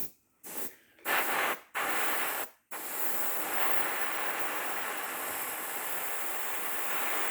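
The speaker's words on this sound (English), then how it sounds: "Airbrush is only going around about 20 pounds." An airbrush sprays touch-up paint at about 20 psi on a VW Beetle Baja. Three short hissing bursts with gaps give way to one long, even hiss that runs steadily to the end.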